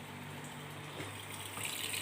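Tap water gushes into a washing machine at close range, a steady rushing flow that grows slightly stronger toward the end.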